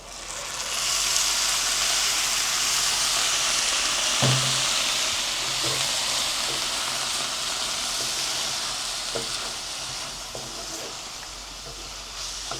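Onions caramelize in a pan with a steady, bright sizzling hiss that holds evenly throughout, punctuated by a few soft knocks and scrapes from stirring.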